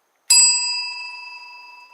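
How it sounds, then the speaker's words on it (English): A single bright service bell ding rings out sharply, then its clear metallic tone fades slowly over about two seconds, alone and close. "I can ring my bell for service."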